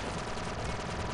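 Rapid blaster fire rattles continuously against droids during a Star Wars Republic Commando firefight, a dense, loud, unbroken burst of repeated shots with no talk.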